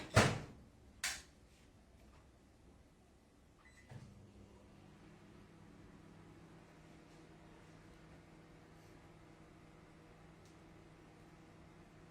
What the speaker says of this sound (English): I'll just put inside the microwave and I'll melt it.